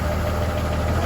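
A Holden Kingswood engine revving on light throttle after a carburettor service gives a steady, close, continuous low rumble with a faint knock, alone with no talk.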